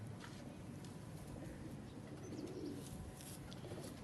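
Pigeons coo softly in a loft or yard, low murmuring calls repeating under a steady background hiss, faint and fairly close, with no talking.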